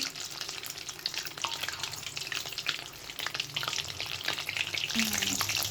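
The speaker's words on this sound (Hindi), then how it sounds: "ये देखें ये कितना प्यारा जो है ना पनीर के क्यूब जो है वो फ्राई हो रहे हैं।" Paneer cubes frying in hot oil in a pan for palak paneer, a steady dense sizzle with occasional stirring scrapes, close and continuous with no talking.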